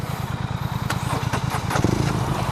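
A BMW R nineT or Triumph Thruxton motorcycle engine turns over and catches, settling into a steady low rumbling idle with a few sharp mechanical clicks on top.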